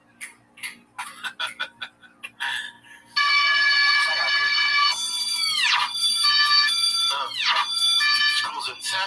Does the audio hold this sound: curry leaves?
no